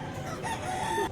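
A rooster crows at a rural market where Aseel fighter birds are for sale, giving one clear, fairly close call that rises and holds before breaking off.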